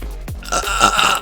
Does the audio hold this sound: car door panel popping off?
no